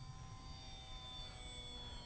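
H-King Bixler 3 RC plane with a pusher propeller flying in the air, its steady motor whine holding level and continuous with no talk.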